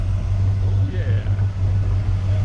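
A supercharged Ford Falcon engine idles smoothly with a steady, low rumble that holds close and constant, and people talk over it.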